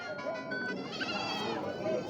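A Beetal goat bleats several times in wavering, nasal cries, mixed in with people talking nearby at a goat market in Tungwali.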